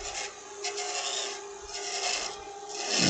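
A spindle gouge cuts a cove into a wooden snowman spinning on a lathe, giving a continuous close rasping scrape that swells and eases over a few seconds, with a steady motor hum underneath.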